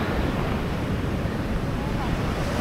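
Strong ocean waves roll in on a beach in La Union, Philippines, making a loud, continuous roar of surf mixed with wind noise on the microphone.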